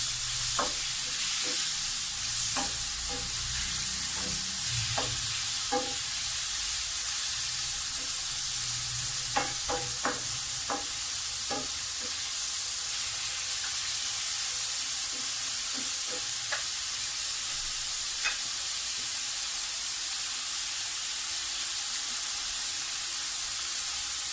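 Chicken pieces fry in a pan for a macaroni dish, giving an even, steady sizzling hiss for over twenty seconds. Light clicks and scrapes of stirring come in here and there, and no one talks.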